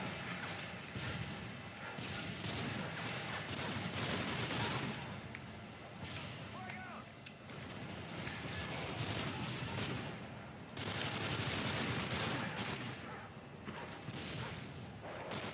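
Gunfire in a Call of Duty wave mode video game: rapid bursts of automatic shots and crackling impacts in a dense, busy firefight, fairly faint overall, with some voices now and then.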